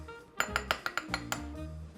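Scooping soft homemade dulce de leche ice cream, heard as a quick run of about six light metallic clinks of a scoop against a container. The clinks are close and quiet, with no talking.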